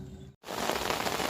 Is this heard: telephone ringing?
no